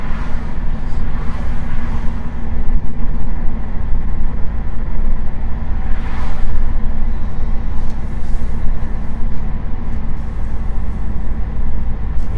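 A 2006 Pontiac GTO engine running at a steady idle, a loud, continuous low rumble with a deep throb that holds evenly throughout.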